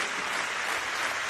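A home crowd applauding at a CS:GO esports grand final in Copenhagen, a steady, dense wash of clapping and cheering filling the arena at even loudness throughout, with no clear talk on top.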